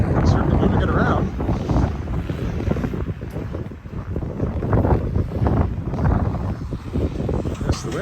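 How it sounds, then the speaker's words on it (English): Sharp winter wind at minus 19 along a creek in Regina, a loud buffeting roar across the microphone that gusts and swells throughout. "the wind is quite sharp, as one would expect at minus 19 with the wind blowing"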